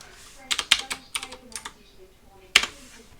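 Bursts of clicking on a computer keyboard while entering text in Cinema 4D, quick clustered keystrokes at close range with a pause and one final sharp tap.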